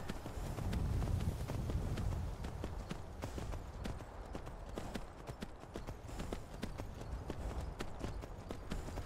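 Horse hooves clip-clop in a steady, bouncy rhythm while the horse is ridden, close and fairly clear, with a low rumble beneath the beats.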